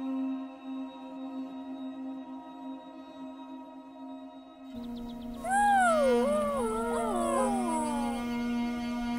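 An Ethiopian wolf howls in the wild: after a steady low drone, a loud series of wavering, rising and falling howls begins midway and carries on to the end, with no talking.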